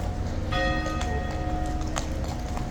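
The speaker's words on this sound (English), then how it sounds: "The horse is walking towards me." Horse hooves clip-clopping at a walk on a hard surface at a horse guard post, steady and fairly close, against constant outdoor background noise with a faint ringing tone.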